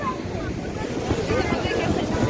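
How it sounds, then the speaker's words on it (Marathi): Rushing surf and crashing waves roar continuously at Karde beach, Dapoli, mixed with wind buffeting the microphone. "खूप लाटा येतात"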